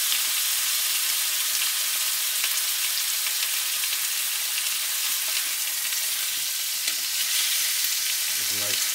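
Jumbo shrimp fry in a pan on a stovetop burner, giving a steady, dense sizzle that holds evenly throughout, with a faint low clunk near the end.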